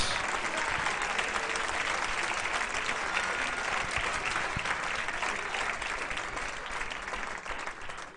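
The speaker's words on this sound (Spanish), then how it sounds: "Denle ese aplauso a Cristo, gloria a Dios." Church congregation applauding loudly and continuously, a dense steady clatter of many hands that fades slightly toward the end.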